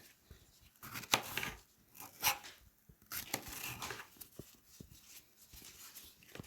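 A knife slices through a red vegetable, producing a series of crisp, irregular cuts and crunches close up, fairly quiet, with short pauses between strokes.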